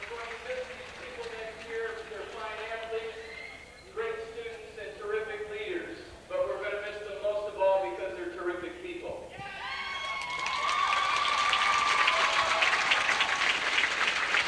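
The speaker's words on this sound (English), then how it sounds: "Crowd giving the cheerleaders and ball players a nice round of applause" A crowd at a 1989 Ravenna at Montague basketball game gives the cheerleaders and players a round of applause. Someone speaks first, then the clapping swells and holds steady and fairly loud over the last few seconds.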